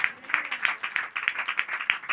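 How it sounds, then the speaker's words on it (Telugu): A church congregation claps in unison, a steady rhythmic beat of many hands at roughly three claps per second, loud and close, with no voices over it. "ఇప్పుడు మళ్ళీ చప్పట్లు కొట్టాలి"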